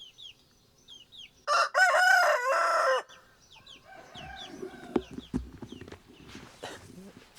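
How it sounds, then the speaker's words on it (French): A rooster perched up in a tree crows once, loud and clear, on Réunion island, with hens clucking and other birds chirping around it and some rustling and thumps afterward. "Il y a le coq qui est au-dessus."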